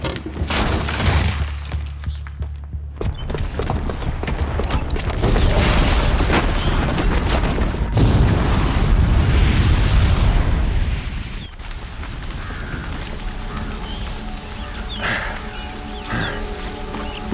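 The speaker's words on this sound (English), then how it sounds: "the booby trap on the bomb downstairs is gonna get set off" A bomb goes off in Horizon Zero Dawn: a deep booming blast with rumbling debris, then a second heavy surge of crashing rubble, trailing into scattered clatter and game music.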